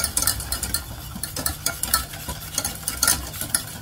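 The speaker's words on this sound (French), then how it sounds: "Allez, on fouette. La crème tiède avec le beurre." Warm cream and butter whisked for a no-bake lemon-orange fromage blanc cheesecake, a quick, steady rhythm of whisk strokes rattling against the bowl with a bright scraping texture, close up with no talking.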